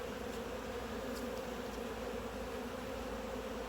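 Honey bees drone in a dense, steady buzz around an open hive during an inspection, close and continuous at low level with no talk.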